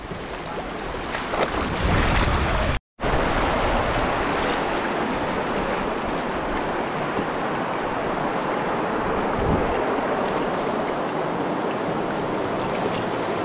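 Steady wind roars across an open outdoor spot, a broad continuous rush with gusting buffets on the microphone and a brief dropout early on.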